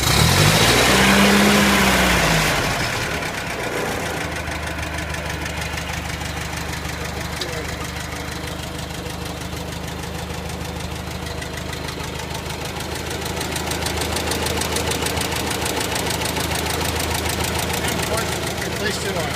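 A Ferguson 35 tractor engine cranks over and catches, then settles into a steady, loud idle that runs nearly alone close by.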